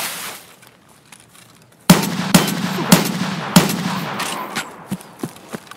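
Gunfire in Escape From Tarkov on the Woods map, a few sharp loud shots at irregular intervals after a quiet start, followed by fainter trailing pops and echoes.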